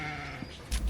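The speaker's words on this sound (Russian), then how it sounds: "Только что родившийся ягненок." Newborn lamb bleating outdoors in the bushes, a single short bleat near the end after a quiet stretch, close and clear.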